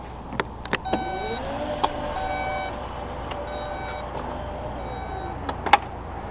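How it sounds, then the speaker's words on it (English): A Porsche Panamera E-Hybrid's powered rear hatch closes with a motorized hum while the cargo cover folds down, set among a few sharp clicks and thumps and a steady warning beep pattern; the sounds are fairly quiet and close. "You guys will see when I shut the rear hatch, it kind of like folds down with it."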